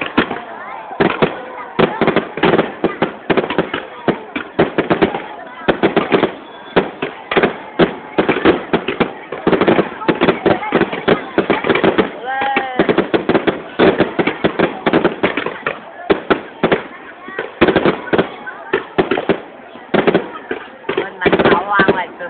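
Fireworks launched and bursting at a Vietnamese ethnic cultural village, a long rapid series of loud cracks and pops with voices now and then.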